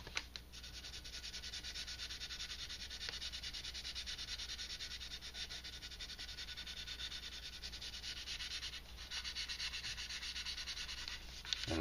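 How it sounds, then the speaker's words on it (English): Wet sanding of Squadron putty with a medium sanding stick, a soft continuous rubbing hiss at low level, with faint bird calls in the background and no talking. "it sands real easy. As long as you keep it wet, it comes right off"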